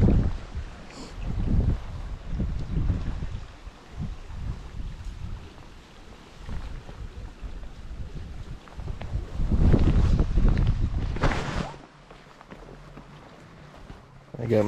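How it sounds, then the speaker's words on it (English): Wind buffeting a microphone on a boat while fly fishing on the Lower Owens River: steady loud rumbling gusts that swell and ease, with a brief quieter lull near the end. "Yeah, fighting the wind."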